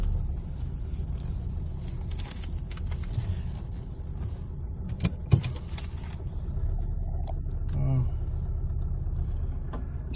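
A 2011 Nissan Qashqai with a 1.5-litre diesel engine moving off, a low steady engine rumble from inside the cabin with a few small clicks and knocks, and a person speaking over it.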